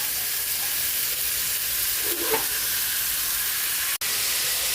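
Pork frying in a pan with pepper and liquid seasoning, a loud steady sizzle and hiss that holds throughout, with a faint stir and a single sharp click near the end.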